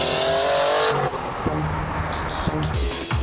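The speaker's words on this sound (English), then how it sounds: "we've got one turbo on a 350Z, and what a wonderful thing it is" A single-turbo Nissan 350Z accelerates hard, its engine revving and climbing through gears with a buzzing exhaust note, loud and close, and someone talks over it.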